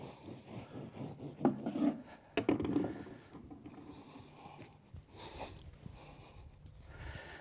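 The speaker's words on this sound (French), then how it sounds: "Alors on utilise un simple couteau, hein, ça suffit amplement." A simple knife cuts through material with close, dry rubbing and rasping strokes, several short scraping bursts at an uneven pace, quiet and without talk.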